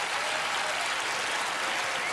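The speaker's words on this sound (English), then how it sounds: "You can applaud for her as she does." Steady applause from a studio audience at a televised magic-competition show fills the whole stretch, dense and even, with no talking over it.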